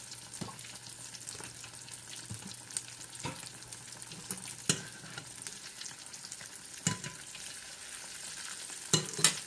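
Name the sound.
seitan frying in a pan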